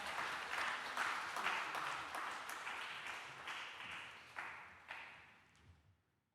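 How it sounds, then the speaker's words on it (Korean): A church congregation at a worship lecture gives a big round of applause to welcome a guest pastor, the dense clapping sustained for several seconds, then thinning into a few last claps and fading out. "우리 큰 박수로"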